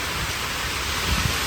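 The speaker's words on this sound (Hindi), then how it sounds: "ये बारिश सुबह से चल रही है।" Heavy rain falling steadily in cold weather, a dense, even hiss close by with a low rumble and a few heavier patters toward the end.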